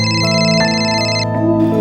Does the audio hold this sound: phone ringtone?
yes